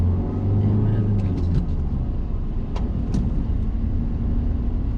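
A car accelerates on the road during a driving lesson, with a continuous low engine rumble and road noise heard from inside the cabin and a voice faintly present over it.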